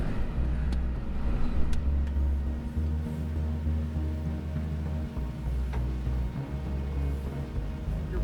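A Lexus off-road vehicle crawls over a rock trail in Moab, Utah, its engine a steady low rumble with bumps and creaks throughout, close and continuous.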